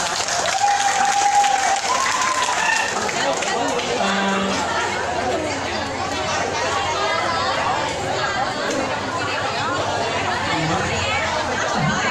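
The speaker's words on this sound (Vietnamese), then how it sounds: "Và một tràng vỗ tay cho bạn sinh viên đến từ đại học Bách Khoa." Audience applause for a university student performer, a dense, steady clapping sustained throughout with crowd chatter mixed in.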